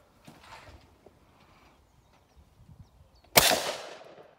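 One sharp, loud shotgun blast at a clay target shoot rings out near the end, decaying over a second, after a stretch of faint background movement and soft distant sounds.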